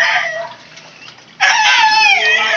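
A rooster crows loudly and nearby, its harsh drawn-out call jumping in strongly partway through after a quieter stretch of clucking fowl.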